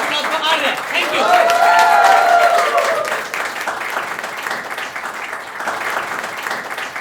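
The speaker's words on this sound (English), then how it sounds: "Please give a huge round of applause for Arya" Audience applause at a December poetry show, loud and dense for about three seconds with a whistle or cheer riding over it, then thinning to lighter scattered clapping with background voices.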